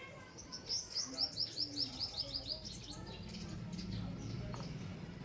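A series of quick, high-pitched bird chirps repeats rhythmically for a couple of seconds, then fades into a steady low background rumble.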